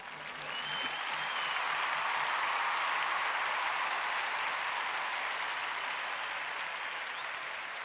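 Sustained applause from a crowd, steady and fairly loud for several seconds, building quickly at the start and holding level throughout with no talking over it.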